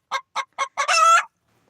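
A hen gives a crow-like call: four short rising notes followed by a longer, louder drawn-out note, close and clear with no talking.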